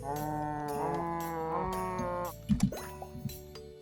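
Cows in the Terracards card game let out several drawn-out synthetic moos that overlap one another, followed by a couple of short thumping game effects.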